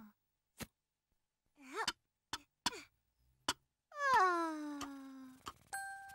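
A little black cat in the Maisy Mouse cartoon gives a drawn-out, falling meow among scattered soft ticks and clicks, followed by a short tonal chime. The sounds are faint and close, with no speech.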